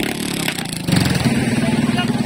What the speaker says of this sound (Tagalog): Start na makina nila.